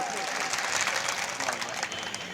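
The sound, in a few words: loud applause at a political rally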